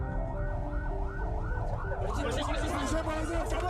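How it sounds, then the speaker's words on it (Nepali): A police car siren wails in a movie scene, its rising and falling tone looping steadily through the whole stretch and growing denser and more layered toward the end, set over a low, constant background rumble. "पुलिसको गाडी साइरन बजाउँदै त्यहाँ आइपुग्छ"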